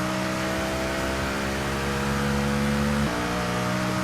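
A car engine in the mobile game Grand Mobile holds a steady, close droning hum, its pitch stepping up suddenly near the end as if shifting gear.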